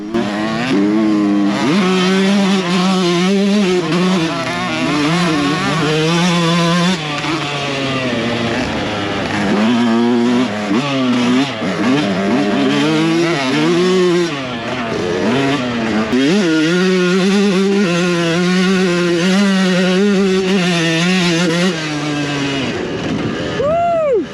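Yamaha YZ125 two-stroke dirt bike engine revving loudly and continuously, its pitch rising and falling through repeated throttle blips, close to the listener.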